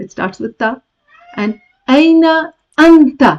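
A pet cat indoors gives two clear, drawn-out meows close by, breaking in between bursts of someone talking.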